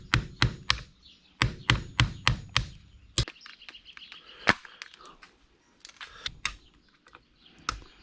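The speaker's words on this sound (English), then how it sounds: "I'm going to have to knock these pins out to get these clamps off." A hammer knocks pins out of clamps on a motorcycle being converted to an e-bagger, with sharp metallic taps in quick clusters, then scattered lighter clinks and workshop noise, with no talking.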